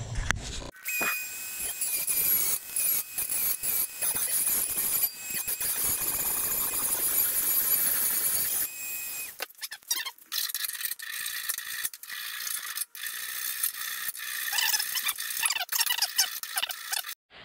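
Trimming the fan shroud of a 2332 VW air-cooled stroker engine produces loud, continuous squealing and grinding with ratcheting scrapes, then a shift to a brighter, choppier cutting noise with short pauses, close and steady throughout.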